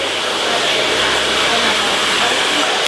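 A hair dryer blasting cold air through short hair during a haircut, a loud, continuous whooshing roar that holds steady throughout.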